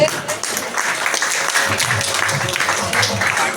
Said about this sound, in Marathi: टाळ्या झाल्या पाहिजेत